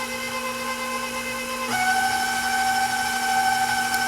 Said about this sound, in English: Going to go ahead and put it on to stir to start off with